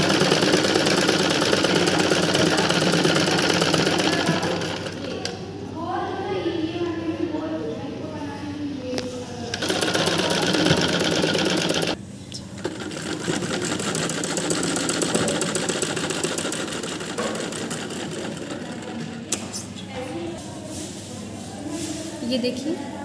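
A sewing machine stitches tucks into the lining of a smocking frock, whirring in steady continuous runs that stop briefly now and then, with someone talking over it throughout.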